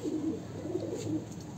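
Heavy pigeons of several breeds coo softly and continuously in a loft, a low, steady murmur that stays faint throughout, with no speech.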